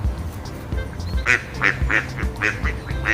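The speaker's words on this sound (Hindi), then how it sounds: "डक को हिंदी में बतख कहते हैं।" A duck quacks repeatedly, a series of loud, close, evenly spaced nasal quacks filling the second half, with soft background noise before it.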